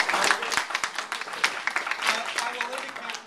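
An audience at a community forum applauds with scattered, uneven claps and crowd noise, the clapping thinning and swelling irregularly while voices talk over it.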